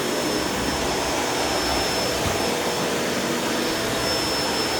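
Shark Rotator Powered Lift-Away upright vacuum cleaner with self-cleaning brushroll running close by, a loud, steady whooshing roar with a thin high whine throughout, no speech.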